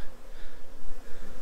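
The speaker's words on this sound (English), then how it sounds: "I wonder if these bees are trying to raid this hive." Honeybees swarm around beehives in an apiary, a dense, continuous close buzzing from many insects with no voices.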